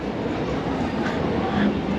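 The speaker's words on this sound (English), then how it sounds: "I am at Krungthep Aphiwat Central Railway Station" Steady rumbling hum of Krungthep Aphiwat Central Railway Station in Bangkok with a train present, a constant wash of mechanical noise and faint background voices.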